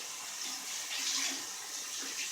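Water rinses a Kawasaki Ninja 250 motorcycle air filter during cleaning: a steady, close hiss of running, splashing water that holds fairly even throughout, with no talking.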